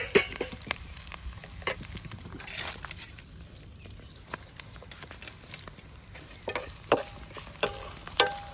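Tempering for mango pulihora frying in a pan, a low crackling sizzle broken by sporadic sharp pops and spatula taps that grow louder toward the end.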